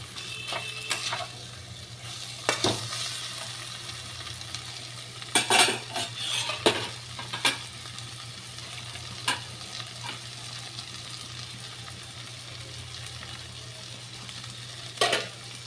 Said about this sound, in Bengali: খুন্তি দিয়ে একটু ঘ্যাটা ঘ্যাটা করে দিলাম, তাহলে তা না হলে মিশবে না।